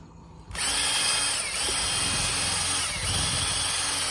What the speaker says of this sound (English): I'm going to be stirring it, not by hand, but with a drill with a paint stirrer attachment